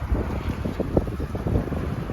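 A John Deere 210C 4x4 backhoe's diesel engine runs with a steady, rough, wind-like rumble, loud and close throughout, with no clear starting moment.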